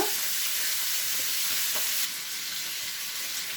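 Fish pieces fry in a pan under a lid, giving a steady soft sizzle that drops slightly partway through, close but fairly quiet, with no voices.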